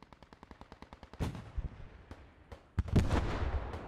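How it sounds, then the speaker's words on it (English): Gunfire in a military video game, with a rapid run of faint, evenly spaced shots followed by several louder, heavier blasts and booms from a tank firing. "That's the tank firing, right?"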